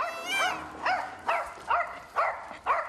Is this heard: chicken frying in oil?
no